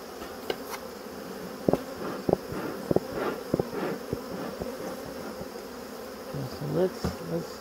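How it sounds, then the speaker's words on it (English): Honey bees swarm around a hive after being smoked, a thick constant buzzing drone punctuated by repeated sharp close fly-bys and brief bumps near the microphone. "there's bees everywhere here"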